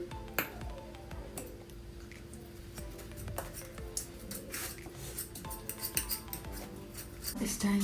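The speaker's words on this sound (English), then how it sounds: "So I want to smash" Boiled eggs are smashed and broken up in a bowl, giving a busy run of soft squishing knocks and light clinks of utensils against the dish, mid-loud and close, with faint background noise throughout.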